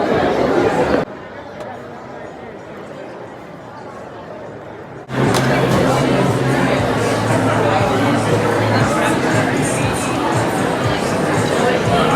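Crowd chatter fills a busy indoor artist alley at the SJmade Winter Wonder Market during holiday shopping. A steady babble of many voices runs throughout, dipping quieter for a few seconds and then swelling back to a dense, close hubbub.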